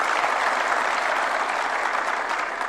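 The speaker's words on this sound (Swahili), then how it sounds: "Mpigeni makofi" An audience at a State House meeting applauds in a dense, steady burst of many hands clapping at once, loud and sustained from start to finish.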